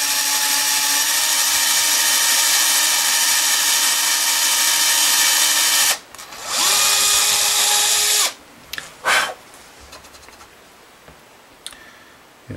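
A power drill runs continuously while boring screw holes in a red Fender Telecaster headstock for vintage tuners, a steady whine that stops, restarts briefly, then cuts out, followed by a few light clicks and handling noises.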